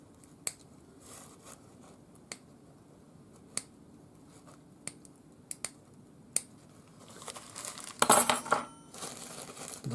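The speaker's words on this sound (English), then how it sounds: "use my solder cutters, and I'm going to just cut the solder chips and drop them right inside" Solder cutters snip silver solder into small chips for a turquoise nugget ring, with sharp isolated clicks spaced every second or so, then a denser clatter of snips and small pieces dropping near the end.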